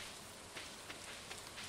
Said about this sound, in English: it's still raining, so I don't even have to water them